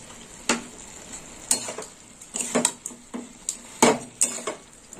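Vegetable curry with mustard paste is stirred in a pan, a spoon scraping and knocking against the metal in regular strokes over a low, constant sizzle.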